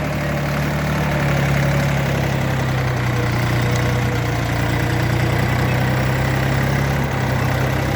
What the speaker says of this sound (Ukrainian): трьохциліндровий дизельний двигун, КМ385